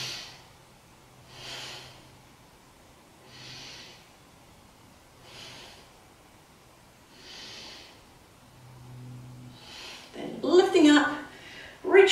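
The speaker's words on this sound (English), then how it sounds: "Take three breaths here." Slow, deep breaths held in a yoga pose, about five soft rhythmic inhale-exhale swells spaced a couple of seconds apart, fairly close and quiet, followed by a louder burst of movement or voice at the end.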